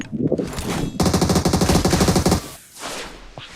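Rapid automatic gunfire in a video game bursts in a long rattling volley, loud and close, followed by quieter scattered shots and rustling.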